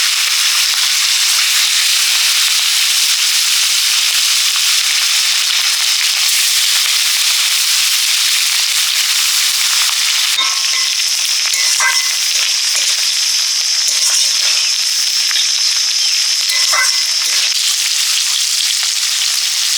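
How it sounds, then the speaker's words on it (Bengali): Large pieces of fish frying in hot oil, a loud, dense, continuous crackling sizzle heard up close for the whole stretch, with scattered sharper pops later on. "মাছগুলো ভেজে নিচ্ছি।"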